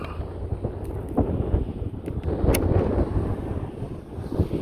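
Strong wind buffets the microphone at an RC aerobatic plane's maiden flight, a loud steady roar with gusty rumbles throughout and no voices.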